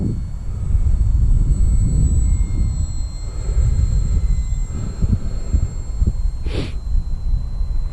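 A 750mm model Hawker Hurricane flying overhead, a steady electric whine with a low rumble of wind, varying in loudness as the plane passes, with no talk.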